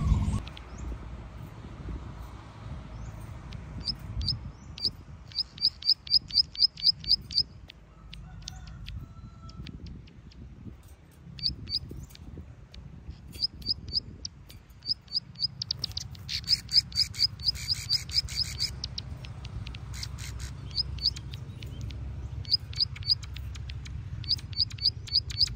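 A pair of wild plain prinias (perenjak sawah) chirp aggressively: rapid, repeated sharp trills in bursts, fairly close, over a low background hum.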